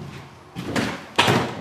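A sliding window on an enclosed 6x12 cargo trailer slides along its track and shuts with two short rattling thumps close by, the second sharper than the first.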